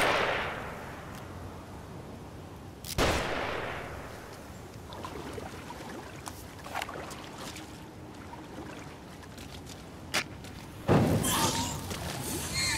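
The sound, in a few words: gunfire in The Evil Within video game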